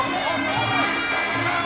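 Spectators scream and shout at a Thai Fight League Muay Thai bout, a brief, dense wall of crowd noise with commentary running over it.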